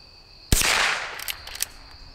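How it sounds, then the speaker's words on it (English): A single sharp crack from a Henry H001 .22 lever-action rifle fired at plastic plates outdoors, followed by a short decaying tail with a few faint ticks and clinks. "Let's see if I can shoot one of these plastic plates over here."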